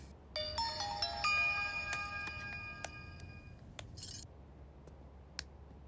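A mobile phone ringtone chimes loudly in a bright repeating melodic pattern for about three seconds during a tense comedy action scene, followed by a couple of faint clicks and a short burst of noise.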